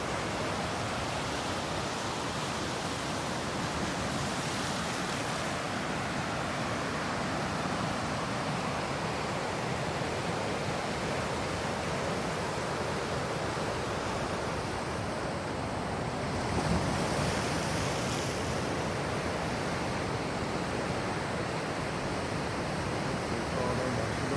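Steady roar of sea waves and surf at Bathsheba on the east coast of Barbados, continuous and loud with wind buffeting the microphone and no talk.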